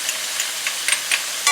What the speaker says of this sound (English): While this beef is cooking, I'm going to add some garlic.